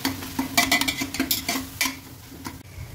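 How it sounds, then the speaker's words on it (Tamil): Tomatoes fry in a pan while a spoon stirs them, producing repeated scraping and clacking strokes over a soft sizzle, close and fairly loud. "டொமேட்டோ பாருங்கள் நல்லா ஃப்ரை ஆகி ஸ்மாஷ் ஆகிட்டே வருது."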